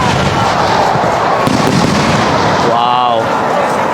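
Fireworks go off at the Nenmara Vela temple festival in Kerala, a dense loud continuous roar of blasts heard up close, with voices faintly mixed in.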